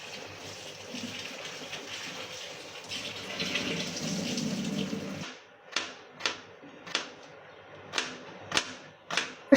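Shrimp are washed under a running kitchen tap. A steady, hissing stream of water plays for several seconds, then stops, followed by a series of sharp, separate knocks and taps close by.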